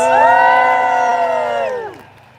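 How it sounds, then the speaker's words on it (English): A large crowd at a London march for clean water cheers and whoops loudly for wild swimmers, with sustained shouts swelling together for about two seconds before tapering off. "Give me a cheer for the wild swimmers."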